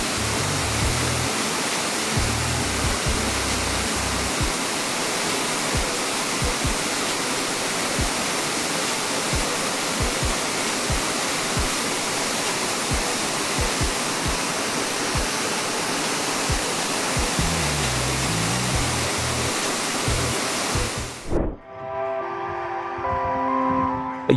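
A waterfall at Shale Creek Preserve cascades over shale rock in front of a small rock cave, a steady, loud, close rushing roar that continues unbroken for about twenty seconds before cutting off abruptly.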